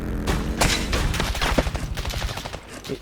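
Rapid video-game gunfire rattles in dense, loud bursts of repeated shots and short volleys that run on almost without a break.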